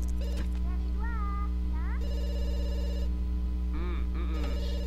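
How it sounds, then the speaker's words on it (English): A telephone rings in The Sims 2, a repeating electronic ring tone over a constant game background hum, mixed with meow-like chirps from a cat. "now let's go ahead and answer the phone"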